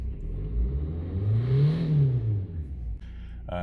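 A Suzuki Swift engine fires up and settles into a steady idle, with a brief rev swelling and fading in the middle, recorded close to the car.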